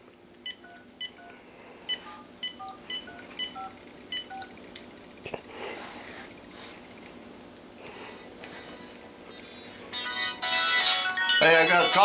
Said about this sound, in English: Hey, I got a call on my cell phone.